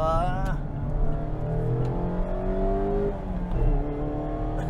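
A 2021 Mazda MX-5 RF Club sports car engine revs hard under acceleration, the rising engine note climbing through gears with brief drops between shifts, loud and close throughout.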